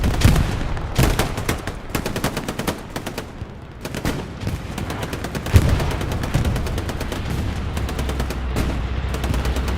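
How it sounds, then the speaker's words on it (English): A bombing run in the Hell Let Loose video game on the Omaha Beach map, with dense bursts of gunfire and heavy explosions rumbling continuously, loud and sustained throughout with a strong low-frequency boom near the middle. "Sounded like our first bombing run is inbound."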